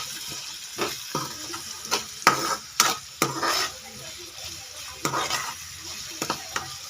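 Onions with salt sizzle and fry in a pan while being stirred, with a series of scraping, clinking strokes against the pan over a steady crackle; no talking.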